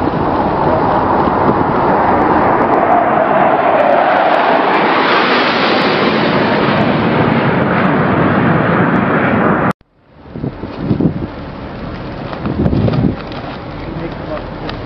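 A low-flying aircraft crossing a carrier flight deck at bridge-wing level, its loud jet roar swelling and cutting off abruptly, then leaving wind and sea noise with a few faint thumps.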